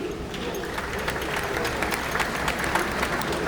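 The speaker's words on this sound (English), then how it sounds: "Let's give them a nice applause." Cruise ship guests at an elite loyalty event applaud steadily, a dense wash of clapping from a large crowd held at even volume throughout.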